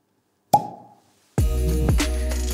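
Wilkinson strong carbonated water is poured into tequila: a single sharp plop, a short silence, then a steady, loud pour with fizzing carbonation.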